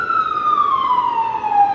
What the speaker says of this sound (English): please let the ambulance through already